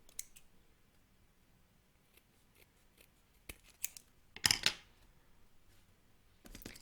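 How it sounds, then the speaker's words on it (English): Scissors trim the bottom of a fabric kanzashi flower petal, making a few faint snips and then a louder cluster of close crisp cuts, with quiet handling clicks around them. "Now trim the bottom of the petal"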